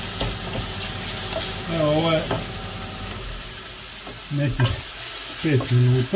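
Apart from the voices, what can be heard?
mushrooms frying in a pan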